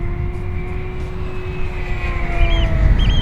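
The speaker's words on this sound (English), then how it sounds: "let's do a full power downwind pass" A Durafly Excalibur V2 1600mm RC plane makes a full-power downwind pass, its electric motor and props giving a steady loud whine with a rising Doppler shift, mixed with wind rumble and no talk.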